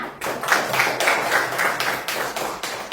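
Schoolchildren in a classroom clap for a classmate: loud, close, rhythmic claps in a steady repeating pattern of quick beats throughout.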